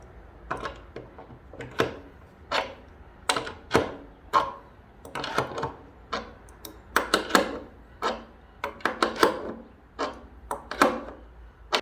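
Carriage bolts being tightened with a wrench on a wooden joiner's workbench, a close series of sharp metallic clicks and ratcheting clanks in irregular bursts, some quick runs and some single strikes.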